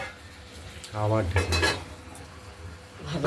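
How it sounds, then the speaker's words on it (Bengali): Flat beans frying in oil in a kadai are stirred with a metal spoon, producing a burst of scraping and clattering against the pan over a soft background sizzle. "শিমগুলোকে আরেকবার নেড়ে চেড়ে দিলাম, আবার ঢেকে দেবো"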